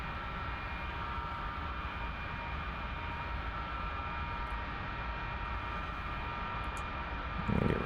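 F-4E Phantom II jet engine spooling up to idle in DCS World, a steady loud broadband roar with sustained whine tones, holding constant throughout and swelling slightly at the end.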